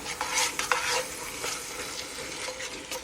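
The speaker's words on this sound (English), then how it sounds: "I stir, and I stir, and I stir. And yeah, sometimes it gets noisy." Ground meat being stirred in a pot for chili: steady scraping and sizzling with irregular louder scrapes, close and continuous, no talking.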